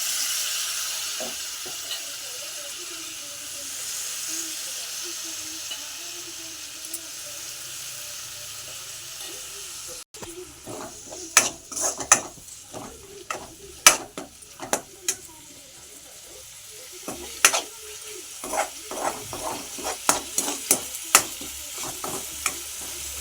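Fenugreek leaves frying with potatoes in a pan: after a quiet stretch of low hiss, a burst of brisk stirring begins, with many sharp scraping clatters over a bright sizzle, close and loud, no voices.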